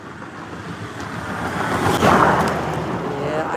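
A car speeds past on a road in Rwanda, a broad rushing whoosh that swells to a peak midway and then fades, mixed with wind noise on the microphone.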